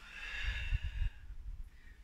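A long, slow breath out through the nose during the yoga forward fold Padahastasana, a soft close breathy rush with a slight snorting edge that fades away.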